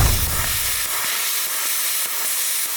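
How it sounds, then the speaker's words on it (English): A plasma cutter slices through a steel gooseneck trailer's fairlead, giving a steady, loud hiss of rushing air and arc that holds evenly, with a low rumble at the start fading away. "I actually ended up getting the plasma cutter back out, but it came off really clean."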